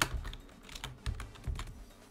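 Keys on a computer keyboard tap in a quick, light run of clicks with a few heavier strokes, close and alone.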